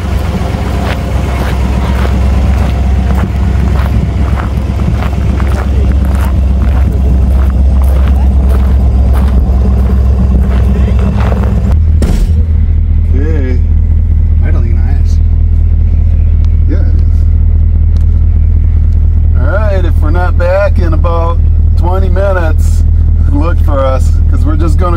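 A 1960 Ford Galaxie Starliner rumbles along on its first drive in decades, the deep engine note loud and close, rising as it accelerates and then settling into a lower steady cruise while someone talks over it.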